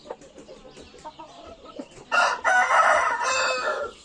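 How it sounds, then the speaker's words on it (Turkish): A rooster crows loudly and close by, a long drawn-out call after a couple of seconds of quieter clucking and background noise. "Salih Bey şu horozu neredesin sen?"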